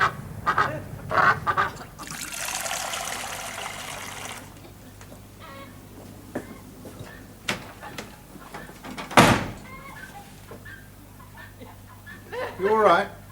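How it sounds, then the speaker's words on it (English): A bird honks and quacks outdoors, with scattered calls near the start and a louder burst toward the end, amid a door sliding, bumps and people talking in a quiet room. "I got a bird out there."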